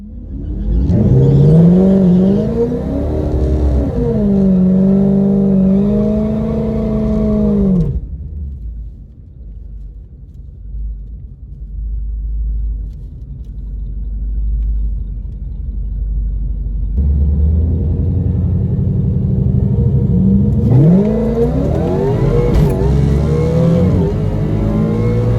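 A drag race car makes a test pass, its engine roaring loud and close, then dropping away to a distant rumble before a second strong surge of revving returns near the end.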